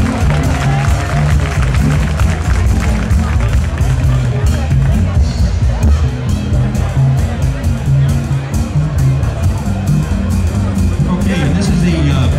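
A festival audience claps and cheers continuously for a big band, dense and loud, with a general murmur of voices mixed through the applause.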